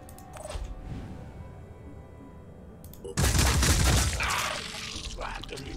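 Turret gunfire in the tactical video game Phoenix Point erupts as a loud, rapid burst about three seconds in, following quieter mechanical clicks and clatter, then fades over the last second or two.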